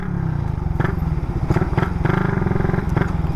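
Suzuki Raider motorcycle riding with a new ECU and a fault that keeps it from reaching full speed in fourth gear, its engine a steady, close, throbbing drone with clattering pulses and brief revving swells throughout.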